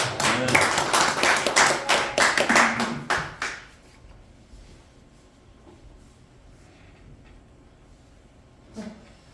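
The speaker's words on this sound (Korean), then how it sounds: "다시 한번 격려 박수 한번" Church congregation at a breakfast worship service applauding, a loud burst of many hands that cuts off after about three seconds into quiet room tone, with a faint stir near the end.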